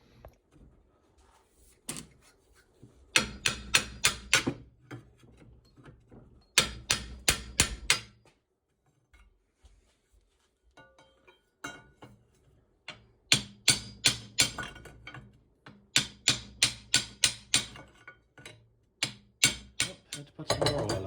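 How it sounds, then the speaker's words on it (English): Hard metallic hammer blows strike a seized joint on a Yanmar YSM1 marine diesel engine in quick bursts of several strikes, separated by quiet pauses, ringing sharply against metal close by. "I'm going to try to hit it out with a hammer."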